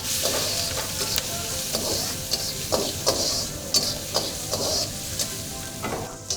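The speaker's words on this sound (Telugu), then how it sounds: "ఉల్లిపాయలు వేగాలండి." Onions fry in a pan for Andhra-style cooking, giving a continuous sizzle broken by regular scraping and stirring strokes, with no voices heard.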